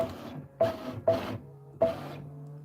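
An embroidery machine stitching the undersewing layer of a Kimberbell bunny mini quilt, running in three or four short mechanical bursts with whirring pauses between them, close and fairly loud.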